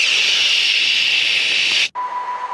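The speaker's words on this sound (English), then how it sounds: "So if you look at a dead cell, for instance, you will effectively hear something like white noise" Broad, loud white-noise hiss, steady and unbroken for nearly two seconds, then an abrupt cut and a quieter hiss with a faint steady tone, standing in for the sound of a dead cell.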